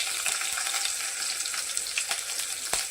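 Finely chopped green chillies fry in hot oil with cumin seeds, mustard seeds and curry leaves, a bright crackling sizzle with a few sharp pops, close and steady.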